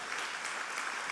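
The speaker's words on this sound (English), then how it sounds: "So I would like to request a big round of applause to all our guests that took the time to come here." A large audience at a summit inauguration ceremony applauds, producing a dense, steady round of clapping that fills the hall evenly throughout.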